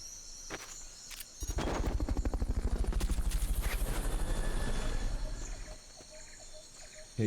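A helicopter in Metal Gear Solid: Peace Walker thumps in with a fast, even rotor chop that rises loud for several seconds and then fades, with a few sharp game clicks around it.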